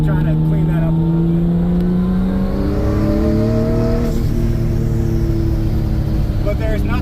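A Nissan R32 Skyline GTS-t engine pulls hard on winding back roads, its loud droning note rising steadily through the gears inside the cabin while someone talks over it.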